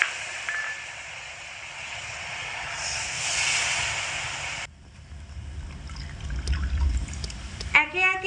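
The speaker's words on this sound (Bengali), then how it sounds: "একই বাটির মাপ করে একে একে 3 বাটি দুধ দিয়ে দেব।" Liquid milk poured in stages into a pan of crumbly sugar for a sweet pancake filling, a hissing, trickling stream followed by a lower splashing pour and a brief clink near the end.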